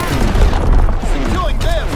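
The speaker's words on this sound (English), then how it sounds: "Incoming enemy artillery! Get to cover!" Enemy artillery barrage in a Call of Duty WWII match, heavy booms and crashing blasts layered with gunfire and battlefield clatter for two seconds.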